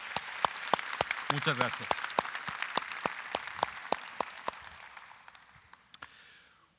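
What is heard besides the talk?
audience applause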